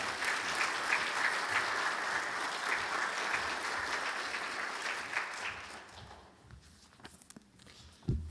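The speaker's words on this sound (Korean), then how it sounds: "우리 목사님 오실 때 큰 박수로 환영해 주시면 감사하겠습니다" A church congregation at a mission Sunday service at Bethel Church applauds to welcome the pastor, a full, steady round of clapping that fades after about six seconds into scattered claps and footsteps.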